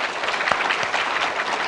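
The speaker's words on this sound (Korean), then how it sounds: "우리 힘차게 박수로 하나님 영광을" Church congregation clapping together during an Easter Sunday morning worship service, a dense, steady wash of applause filling the room at close range with no pauses.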